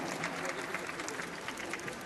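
An audience at a Bangladeshi television awards ceremony claps in a dense, continuous roar of hands, steady and fairly distant, with no gaps.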